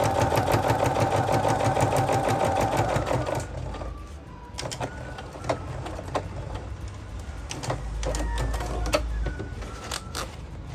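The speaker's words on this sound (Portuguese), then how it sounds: "Agora só falta eu passar uma costura reta aqui, fazendo um pesponto de mais ou menos meio centímetro." A sewing machine runs a straight topstitch about half a centimetre from the edge on a men's African fila cap, its fast rhythmic needle chatter loud and close for several seconds, then slower, intermittent stitching bursts with pauses and handling clicks.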